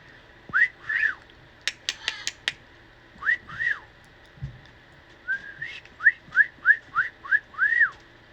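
A pet bird in quarantine whistles back in short rising-and-falling notes, mimicking a person's whistle, in clear bursts with brief pauses, and a few sharp clicks occur in between.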